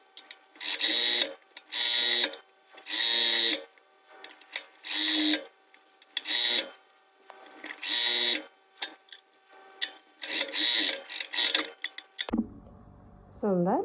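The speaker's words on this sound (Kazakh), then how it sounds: "Біз аламыз да мына резинкамызды екі жақ шетінен тартып отырып, обычный түп-түзу тігіс жүргіземіз." A sewing machine runs a straight stitch along elastic in repeated short bursts of rapid whirring, each a second or so long, separated by pauses, up close, with a brief voice near the end.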